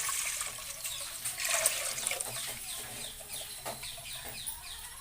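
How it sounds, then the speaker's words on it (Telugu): Buttermilk with the butter removed is poured into a vessel for majjiga pulusu, a soft continuous trickle and splash that stays steady and close, with no talking. "ఇలాగ వెన్న తీసేసుకున్న మజ్జిగని ఒక దాంట్లో పోసుకుందాం"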